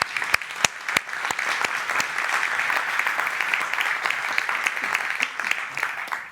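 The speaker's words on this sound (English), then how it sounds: "Let's give our speakers a big round of applause once more" A conference audience applauds its speakers, a full, sustained wash of many hands clapping throughout, with a few sharp louder claps standing out near the start.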